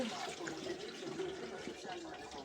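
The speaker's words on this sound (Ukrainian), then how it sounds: "Промиваю холодною водою." Cold water splashes steadily while luffa and asparagus seeds are rinsed under it, a close, continuous running-water wash at moderate volume with no pauses.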